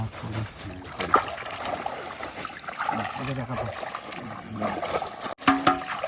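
Water splashing and trickling as shrimp fry are rinsed in a net at a river's edge, irregular sloshes and drips close by, with people talking over it.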